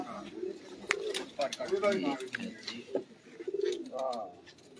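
Pigeons coo in soft repeated throaty bursts at close range, with someone speaking over and between the calls.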